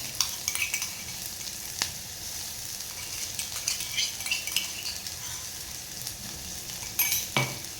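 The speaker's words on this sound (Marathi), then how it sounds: "वाटण सुद्धा छान परतून घ्यायचं आहे" Masala paste sautéing and sizzling in a pan for a mixed creek-fish curry, with a steady fry hiss and occasional stirring scrapes and utensil clinks, close and moderately loud, no talk.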